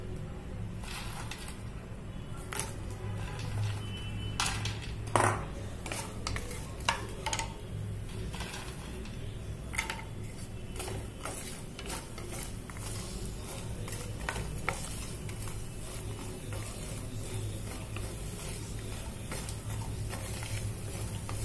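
Fox nuts (makhana) roast in ghee in a pan with a continuous low sizzle, punctuated by irregular sharp clicks and scrapes of a spoon stirring against metal, quiet and close.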